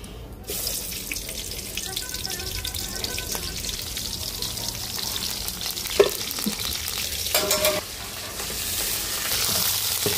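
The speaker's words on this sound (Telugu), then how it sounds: "పచ్చిమిర్చి, ఉల్లిపాయ మొత్తం అయితే బాగా ఫ్రై అయినాయి కదా." Onions and green chilies frying in hot oil for a liver curry give a steady, close hiss that runs throughout, with a few brief clinks and scrapes of a utensil partway through.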